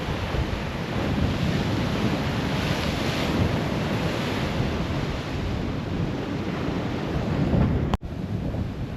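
Heavy ocean surf crashes and roars continuously near a blowhole in the Exumas, loud and close with gusting wind buffeting the microphone and a brief dropout near the end; no voices.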